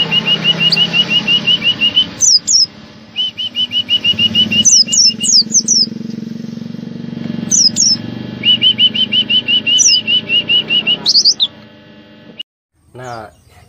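A pleci (white-eye) repeats a bright, high whistled mating song in rapid chirping runs, with short bursts of wing flapping between phrases, close and clear.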